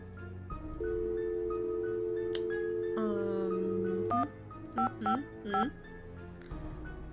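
A telephone in a mystery video game: a dial tone, then a quick series of DTMF key beeps and short rising tones, clear and close with no talk.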